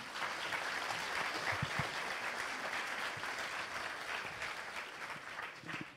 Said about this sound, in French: je vous demande de l'applaudir pour l'encourager